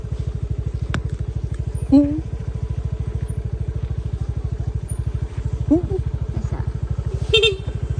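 Steady putter of a motorcycle engine while riding a road, running continuously at an even rhythm, with a few short spoken words and brief vocal sounds over it.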